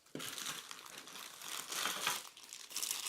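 Protective packaging foam is pulled away from a gaming keyboard, giving close, steady crinkling and crumpling with a few brief pauses and renewed bursts.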